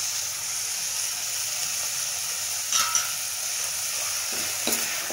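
Tomato and onion sizzling steadily in a pan as a base for Kerala-style crab curry, a continuous broadband fry hiss with a few brief stirring scrapes near the end, moderately loud and close.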